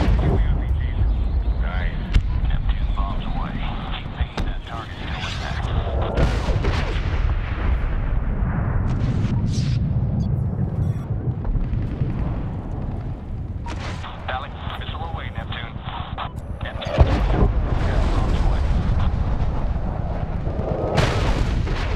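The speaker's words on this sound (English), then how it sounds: "Missile off the rail." Missile launch and explosions in the video game Medal of Honor (2010), with booming blasts and rumbling gunfire, a sharp burst near the middle, continuous under radio chatter.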